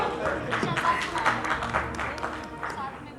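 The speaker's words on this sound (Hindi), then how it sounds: "एक बार तालियों की गड़गड़ाहट के साथ इनका भव्य स्वागत कीजिए" Audience applause at a political conclave in India greets a guest on stage, a dense patter of clapping mixed with a voice talking loudly over it from a microphone.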